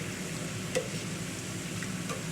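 Food fries in grease with a quiet, steady sizzle and soft bubbling, one brief louder crackle standing out in the otherwise even hiss.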